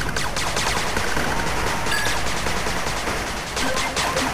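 Machine gun turret in the strategy game 8-Bit Armies firing a dense, continuous rapid burst, loud and close, with no voices over it.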